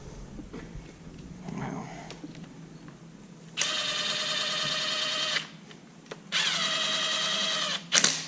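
A power tool snugs down bolts on a 2014 Ford F550 V10 engine during assembly: two sustained, loud whirring bursts of about two and three seconds, up close, after quiet shop noise.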